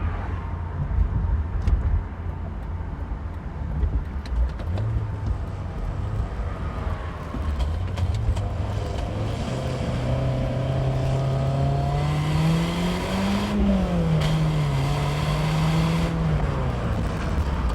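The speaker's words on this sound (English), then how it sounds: "This little four-cylinder sounds pretty good for being completely factory exhaust" A 1996 BMW Z3's four-cylinder engine with factory exhaust hums with a mild exhaust note, its pitch rising and falling as it accelerates and shifts, under steady road and wind noise.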